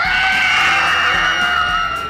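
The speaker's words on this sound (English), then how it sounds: "And an extra one for whoever kid screams the loudest." Several children scream loudly together outdoors in freezing weather at a trout fishing event, one sustained, shrill burst lasting about two seconds with no talking.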